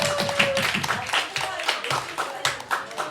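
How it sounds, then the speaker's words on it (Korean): Church congregation clapping to congratulate a child's birthday, a few seconds of scattered, fairly close hand claps mixed with voices talking and cheering. "박수 축하합니다"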